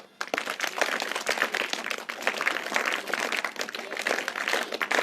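Schoolchildren at a junior high school in Dehradun give a rhythmic special clap, a dense crowd of sharp claps repeating in quick patterned bursts, close and loud for several seconds.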